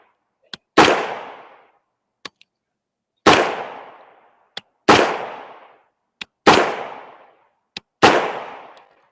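Five loud rifle gunshots from a heavier, longer-barrelled rifle crack at spaced intervals, each with a sharp report and decaying echo, preceded by faint metallic clicks, with no talk over them.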